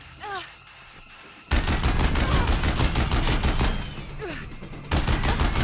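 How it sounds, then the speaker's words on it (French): Heavy machine gun in the Horizon Zero Dawn Remastered video game firing in loud sustained bursts, with a short gap between them and a few whooshing game effects. "Faut choper la grosse mitrailleuse, là."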